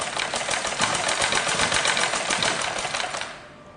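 A sewing machine stitches rope into a fabric edge, its rapid, even needle chatter running loud and close for over three seconds before winding down at the end.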